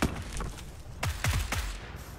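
Gunshots in PUBG, fired between two buildings by an opponent who has stopped his vehicle, a loud crack followed by several more shots in a ragged cluster, some echoing, over a continuous rumbling background.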